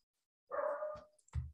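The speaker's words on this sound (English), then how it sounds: "I'm going to go see what all that barking is about." A dog lets out two barks close by, a longer yelping bark and then a short, deeper one, against otherwise silent surroundings.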